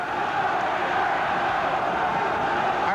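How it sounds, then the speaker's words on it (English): Dense, steady roar of a large boxing arena crowd cheering during a bout at the Halifax Metro Centre, loud and continuous with a broad wash of voices and no single voice standing out. "The crowd now picking up the cheer."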